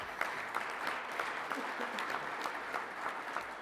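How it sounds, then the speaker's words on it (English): An audience at a firefighters' union legislative conference gives steady applause, a continuous patter of many hands at moderate distance throughout. "Let's give him a round of applause"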